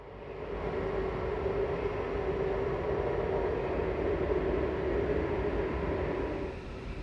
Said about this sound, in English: our train starts moving from the sidings and makes its entry onto the platform